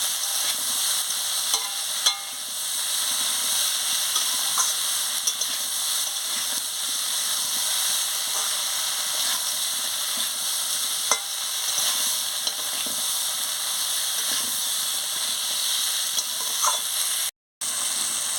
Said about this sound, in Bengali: দিয়ে ভালো করে আনাজটাকে কষিয়ে নিচ্ছি